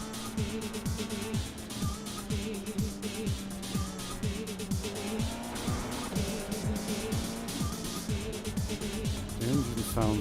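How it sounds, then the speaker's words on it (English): The iR-04 race car in iRacing at Laguna Seca gives a steady, rather quiet engine drone that rises and falls through repeated gear shifts, with a voice talking over it. "The engine sounds a little bit quiet, doesn't it?"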